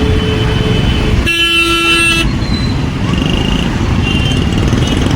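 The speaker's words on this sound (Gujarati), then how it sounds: "શોર્ટકટ લેવા ગયા તો અહીંયા થઈ ગઈ ટ્રાફિકમાં જામ." Car horns honk in a traffic jam in Jamnagar, a loud sustained toot cutting through the dense, constant roar of engines and motorcycles close by, with other traffic noise continuing throughout.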